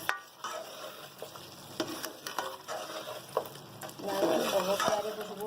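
Sliced ginger and green chillies are stirred in a hot karahi, with sizzling frying and scraping of a spoon against the pan in irregular strokes, louder toward the end.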